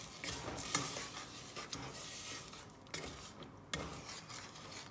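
Butter, evaporated milk, sugar and salt stirred together in a saucepan over medium heat for fudge: a steady soft scraping swirl with occasional light clinks of the spoon against the pan, close and without voices.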